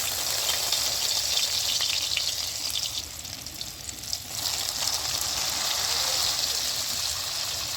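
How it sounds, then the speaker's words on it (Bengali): Stuffed pointed gourds sizzle steadily in hot white oil, a dense, continuous frying crackle close by that dips briefly midway and then resumes at full strength, with no voices. "তো তেলটা গরম হয়ে গেছে, এবার আমি আস্তে আস্তে পটলগুলো দিয়ে দিচ্ছি"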